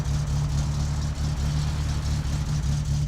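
A car engine idles in the My Summer Car driving game, a steady low, even rumble held close and loud for the whole stretch with no one speaking.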